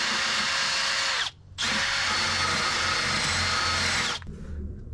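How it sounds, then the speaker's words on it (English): A power drill fitted with a wire brush whirs loudly, stops briefly, then runs again for a few seconds before winding down, harsh and close. "We're going to use a drill and a wire brush."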